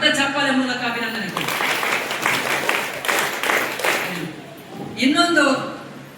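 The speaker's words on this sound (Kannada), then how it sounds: "ಅವರಿಗೆ ಸಹ ದೊಡ್ಡ ಚಪ್ಪಾಳೆ ಮೂಲಕ ಅಭಿನಂದನೆ." Applause from an audience at a women's knowledge-development seminar in Honnali congratulating the women who prepared nutritious food, breaking out briefly in the middle between stretches of someone speaking over a microphone.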